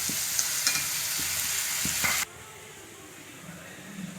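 Leftover prawn-frying oil sizzling in a pan for prawn biryani gravy, a steady hiss with a few stirring knocks, loud at first then abruptly dropping to a much quieter simmer.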